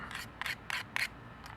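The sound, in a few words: scissors blade rubbed on sharpener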